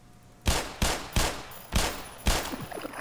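Five sharp, punchy gunshots from the video game Black Mesa ring out in a fairly even rhythm, each with a short decaying tail, close and clear.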